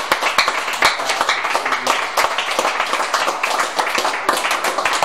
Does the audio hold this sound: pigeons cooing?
no